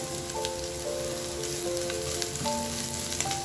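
Onions sizzling in hot oil with cooked ground pork for a Bicol Express dish, a continuous close crackling fry with faint tonal clinks, no talking.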